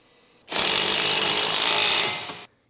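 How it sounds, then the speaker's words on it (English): A single burst from an impact wrench with an 18mm deep socket, tightening a sway bar end link nut on a 2012-2016 Chevrolet Cruze strut assembly, a loud rattling hammer lasting about two seconds, close and alone. "Use the 18mm deep socket with the impact wrench to tighten the sway bar end link nut."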